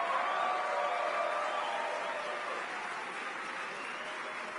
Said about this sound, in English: Mary Ann certainly deserves our applause for all her hard work